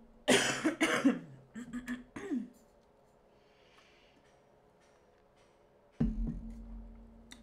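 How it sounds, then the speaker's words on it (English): Several harsh coughs and throat clearing burst out close by in quick succession, then stop, with a single cough returning after a quiet pause. "Still coughing."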